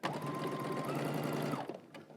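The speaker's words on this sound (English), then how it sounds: "we're gonna go ahead to the sewing machine and we're going to stitch this down using 5/8 of an inch seam allowance" Sewing machine stitching a seam with a 5/8 inch seam allowance, a close, steady whirring hum that runs for about a second and a half before stopping, followed by quiet handling sounds.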